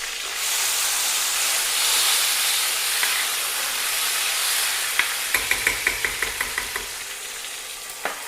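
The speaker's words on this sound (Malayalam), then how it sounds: "ഇതിലോട്ട് നമുക്ക് ഉണക്കമുളക് ഇട്ട് കൊടുക്കാം. പിന്നീട് കറിവേപ്പില നമുക്ക് ഇട്ട് കൊടുക്കാം." Dried red chillies and curry leaves sizzle in hot oil while potato mezhukkupuratti is made. A loud, close, steady hiss gives way midway to a quick run of rhythmic clicks or taps over the frying.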